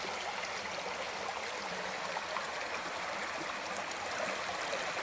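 A mountain creek in the Great Smoky Mountains flowing steadily, a dense continuous rushing and babbling of water at constant loudness with no voices.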